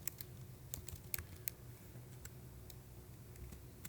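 Quiet, steady computer keyboard typing as CSS code is entered, a run of light, irregular key clicks with occasional sharper taps over faint background hiss, no voices.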